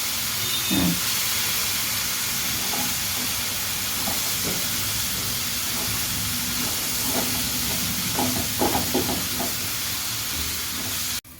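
Hot water hits a pan of fried spice paste for an onion-free rohu fish curry, setting off a steady, loud steaming hiss and sizzle with a few faint stirring knocks, then cutting off abruptly at the end.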